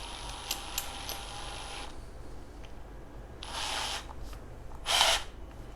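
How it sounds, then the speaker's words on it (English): A Bosch GSR 120 Li cordless drill driver run in forward to tighten its chuck gives short, close mechanical whirring bursts with a ratcheting buzz, separated by near-silent pauses. "use the force of the drill machine to tighten this up"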